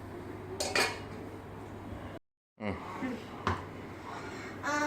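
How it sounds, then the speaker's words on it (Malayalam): Strawberry jam is stirred in a pot and then covered, with metallic clinks and scraping of a spoon against the pot, a brief silent gap, and more clanks as the lid goes on. "നമുക്ക് ജസ്റ്റ് ഒന്ന് ഇളക്കി കൊടുത്തേക്കാം നമുക്ക് അടച്ചു വെക്കാം"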